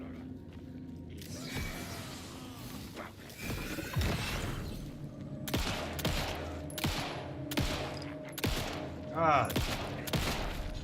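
Video game gunfire erupts in sharp bursts and rapid volleys during play, mixed with game effects and a short spoken exclamation.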